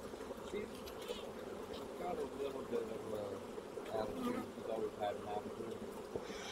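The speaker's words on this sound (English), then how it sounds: "They're not stingy right now. Just buzzy?" Honey bees in a beehive buzz as a dense, continuous hum close by, with a person talking quietly over the swarm.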